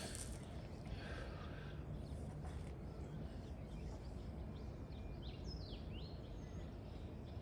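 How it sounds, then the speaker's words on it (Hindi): Faint birds chirp and warble in short bursts over a steady rushing background of a flowing river and outdoor ambience. "कितना प्यारा वो है, चिड़ियाओं की आवाज़ आ रही है।"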